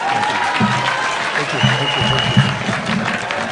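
A crowd at a political speech event claps loudly and continuously for several seconds with a dense, uniform patter. Voices rise faintly underneath the applause.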